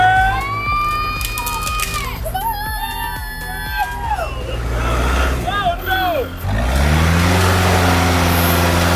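Tractor struggling over wet dirt and logs while building a road at an off-grid homestead, its engine loud and steady with laboring surges and shifting tones, under voices and music-like tonal sounds throughout.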